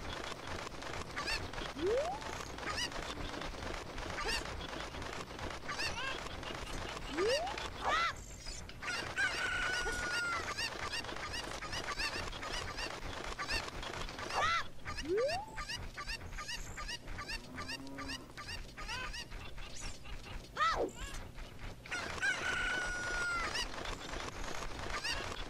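Video game chickens and roosters from Zelda Ocarina of Time cluck and crow in repeated bursts, with several rising crows spread over a steady game background hum.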